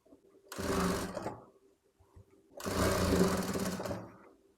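A sewing machine stitches fabric for a baby's skirt in two close, loud bursts of rapid whirring, with a short pause and light handling noises between them.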